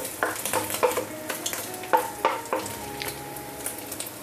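Four cloves of garlic fry in oil in a pan and are stirred, with a soft sizzle broken by repeated close scrapes and clinks of a utensil against the pan.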